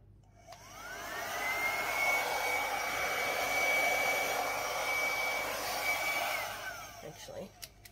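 A hair dryer set on low blows across acrylic paint in a fluid art pour, spinning up to a steady whooshing whine with a faint tonal hum, holding for about six seconds before winding down.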